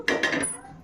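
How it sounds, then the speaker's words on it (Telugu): Two quick metallic clanks as a tawa is set down on a stove, each with a short ringing tail, close by and fairly loud. "తవా పెట్టుకుంటున్నాను"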